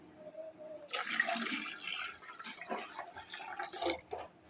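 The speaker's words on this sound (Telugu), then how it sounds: "ఇప్పుడు మనం ఇలా నీళ్ళు పోసుకుందాం." Water pours from a cup into a pan of milk being readied for Maggi noodles, a splashing, trickling stream that rises and falls over a few seconds with faint background hum.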